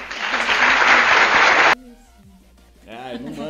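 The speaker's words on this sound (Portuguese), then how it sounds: "palmas." Audience applause bursts out at a theatre event, a dense, loud wash of clapping that runs for nearly two seconds before cutting off abruptly, after which a voice speaks over quiet room sound.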